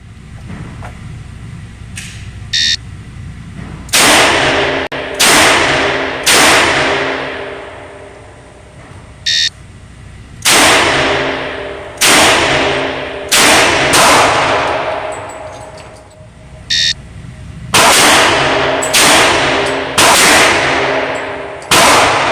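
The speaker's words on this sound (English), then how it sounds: "Conduct an empty gun reload with a minimum of 2 rounds and fire both for a total of 5 rounds in 12 seconds" Colt MKV Trooper revolver fired during a timed reload drill, five rounds in twelve seconds. Loud, sharp shots crack out in spaced clusters with quiet pauses between them, and no talking is heard.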